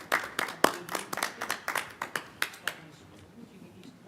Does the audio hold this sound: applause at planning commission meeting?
yes